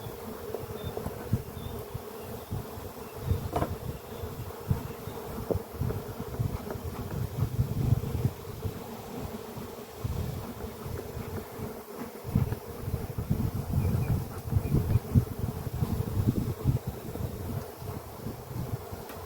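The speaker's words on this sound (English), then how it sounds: "I'm going to try to get these bees off of the lid area." Honey bees buzz steadily around the lid of an open hive during an inspection, a close, continuous droning hum with individual insects swelling past the microphone.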